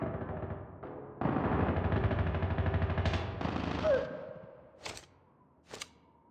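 An ASM10 assault rifle in Call of Duty fires rapid automatic bursts, loud and dense, then cuts off, followed by two sharp isolated shots with ringing tails.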